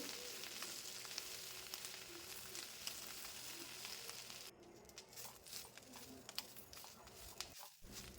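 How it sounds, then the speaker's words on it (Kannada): Curry leaves fry in oil on a low flame with a faint, even sizzle and light crackle that thins partway through, quiet and without talk. "ಕರಿಬೇವಿನ ಎಲೆ ಸ್ವಲ್ಪ ಕ್ರಿಸ್ಪಿ ಆಗೋ ತನಕ ಎಣ್ಣೆಯಲ್ಲಿ ಚೆನ್ನಾಗಿ ಫ್ರೈ ಮಾಡ್ಕೊಳ್ಬೇಕು"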